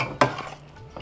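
Chicken saag gets stirred in a pan with a sharp clink of the spoon against the metal, a softer scrape after it and a faint sizzle underneath, one short close burst and no talking.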